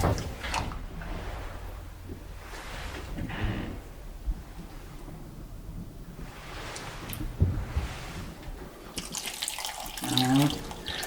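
Hot water runs from a kitchen tap in a home kitchen where traditional Kurpie pastries are being made, a continuous splashing flow that swells and fades with handling noises.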